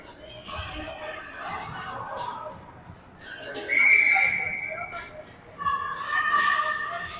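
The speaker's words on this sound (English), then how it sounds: "We'll get a whistle with 8 seconds to go and a neutral zone drop" A referee's whistle blows twice during an ice hockey game between Ames Flyers and Forest Lake. The shrill tones ring out clearly over arena crowd noise and a commentator's talk.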